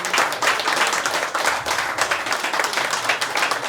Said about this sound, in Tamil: அவங்களுக்கு நல்ல ஒரு பலத்த கைத்தட்டல் கொடுக்கலாமா?